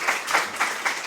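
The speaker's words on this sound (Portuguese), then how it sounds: "uma salva de palmas" An audience applauds at a university event at the Polytechnic Institute of Coimbra, a sustained, moderately loud wash of clapping from a crowd, with rhythmic swells throughout.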